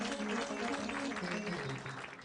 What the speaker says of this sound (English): A round of applause, please, for our clergy.